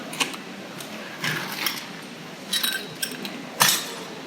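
Cocktail glassware clinks several times at a bar counter as a bartender readies the glass, with short bright taps spaced irregularly over a quiet room hum.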